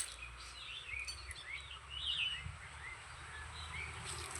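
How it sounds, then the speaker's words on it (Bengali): Several birds chirp and sing in scattered short phrases at a moderate distance, over a steady low rumble of outdoor background noise, with no talking. "এই জায়গাটায় যে কি সুন্দর প্রাকৃতিক সৌন্দর্য প্লাস পাখিদের আওয়াজ"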